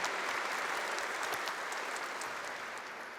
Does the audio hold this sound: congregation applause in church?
yes